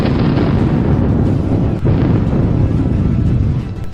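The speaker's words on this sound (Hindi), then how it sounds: "वैसे ही कई गगनभेदी धमाकों से मजबूत पुल के परखच्चे उड़ गए" Several thunderous explosions tear apart a sturdy bridge in a dramatised comic audio story, a dense, continuous roar of booming blasts and rumble with a brief dip midway.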